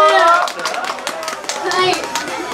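Live-show audience applauding a singer at a night-market event, a brief burst of fairly close clapping mixed with chatter and voices throughout.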